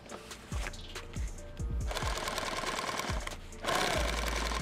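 A sewing machine stitches through fabric, its motor running in bursts with short pauses as the material is pulled and guided, ending in a louder steady run.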